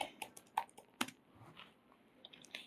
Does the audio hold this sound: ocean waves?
no